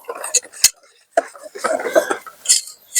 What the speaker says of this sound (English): Then we'll whoop this up, even though I got chili on my whisk already.